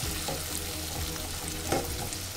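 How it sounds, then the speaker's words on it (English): Finely chopped ginger and garlic sauté in a pan with a continuous soft sizzle and a few faint stirring scrapes, steady and fairly quiet throughout. "So let it saute for a minute"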